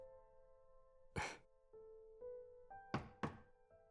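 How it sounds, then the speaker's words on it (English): Knocking on a door in the visual novel game Chaos;Child: one heavy thud, then a quick double knock a little later, each loud and close against sustained synth music. "There's a knock at the door."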